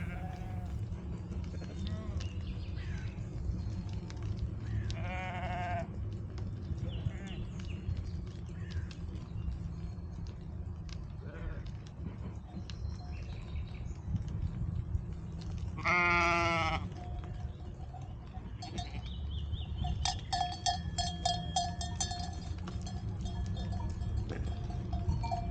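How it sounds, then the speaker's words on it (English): A herd of sheep bleats along a bike path, with a few clear calls rising over steady outdoor noise, some nearer and louder than others, while a voice talks at times. "I had to share the bike path with a herd of sheep that were on their way to greener pastures"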